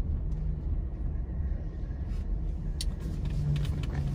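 A pickup truck that needs repair runs while being parked, making a steady, close, low engine rumble throughout, with a few faint clicks and rattles on top.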